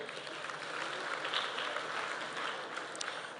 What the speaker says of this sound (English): Congratulations, and let us applaud them.